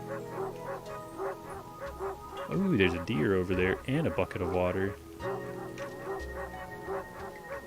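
Dogs bark in a video game made for a game jam, short yapping barks mixed with whimpers heard under a person's steady talking, with faint ambient game sounds behind.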